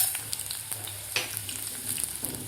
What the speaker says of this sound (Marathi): आता व्यवस्थित आपल्याला हे तेलामध्ये व्यवस्थित फ्राय करून घ्यायचे आहेत.